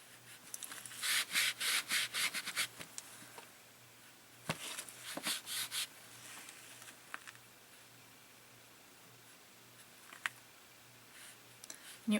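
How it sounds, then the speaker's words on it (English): A towel rubs over a painted lotus petal in bursts of quick, close, dry scrubbing strokes, then a pause, another short run of strokes and a few scattered light brushes. "You can actually kind of rub it with your towel. When you're rubbing, you want to follow the shape of your petal."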